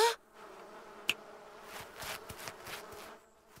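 Bees buzzing close by, a wavering insect drone that swells and fades, with a brief sharp click partway through and no speech.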